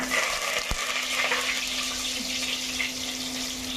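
Onion and curry leaves frying in hot oil with popped mustard seeds for a country chicken kuzhambu, a steady close broadband sizzle with one sharp click near the start, no voices.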